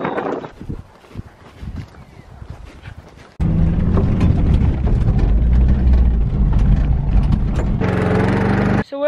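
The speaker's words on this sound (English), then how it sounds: "we gotta go over to Max's in the Suzuki" A Suzuki vehicle's engine runs with a steady low rumble and wind noise once driving starts, loud and continuous after a quieter stretch of knocks and movement at the start.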